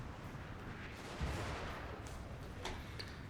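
Wooden cannons firing in Total War: Shogun 2, heard as a dense, continuous roar of distant bombardment with one heavier boom rising out of the rumbling battle noise.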